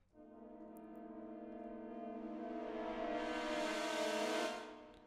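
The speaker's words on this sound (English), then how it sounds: "some trombone staccato and the aleatoric module series French horns" Aleatoric French horn samples from Wotan - Gates Of Valhalla swell together in a rising, unmeasured cluster, growing louder over a few seconds before cutting off abruptly.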